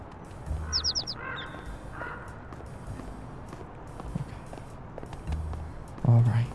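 A bird in the video game Little Kitty, Big City gives a quick burst of short caws early on, with soft footstep-like taps and a louder thump near the end, as a person talks over the game.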